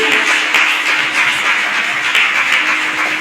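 A church audience applauding to welcome a speaker, dense continuous clapping from many hands, loud and sustained without a break.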